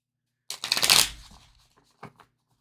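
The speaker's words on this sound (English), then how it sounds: "Come on, cards, cooperate." A deck of oracle cards being shuffled up close: one loud, fluttering riffle that fades out, then a brief second rustle a moment later.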